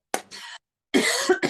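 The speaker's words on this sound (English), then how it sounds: "I am getting over a cough" A person getting over a cough coughs at close range: a short sharp cough, a pause, then a harsher second burst with a throat-clearing catch.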